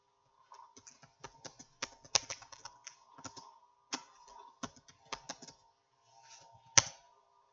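Typing on a computer keyboard during a Microsoft Office lesson, uneven bursts of close, crisp key clicks with short pauses between them and a couple of sharper, louder strikes.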